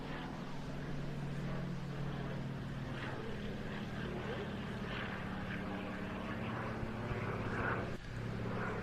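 A Fairey Swordfish-type Fleet Air Arm torpedo bomber biplane flies past at the Jersey International Air Display, its steady propeller-engine drone continuous and fairly distant throughout, with faint crowd and wind noise.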